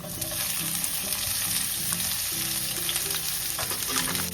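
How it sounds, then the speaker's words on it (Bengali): Onion frying in about five tablespoons of hot oil in a pan gives a steady, dense sizzle that stays close and even throughout, with light stirring and no voices. "তেলটা গরম হয়ে গেছে, এবার তেলের মধ্যে আমি প্রথমে পেঁয়াজটা দিয়ে দেব"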